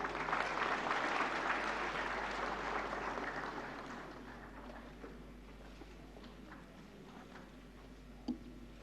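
An audience applauds as a Golden Lotus prize is received at the 68th National Film Awards ceremony. The applause is dense and sustained at first, then gradually thins and fades over several seconds.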